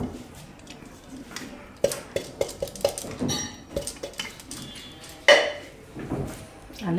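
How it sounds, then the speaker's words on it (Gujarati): Semolina and carrot puree are mixed with a spoon in a bowl, making repeated clinks and scrapes of metal against the dish, close and moderately loud, with a sharper knock near the end. "આને મિક્સ કરી લેવું આપણે."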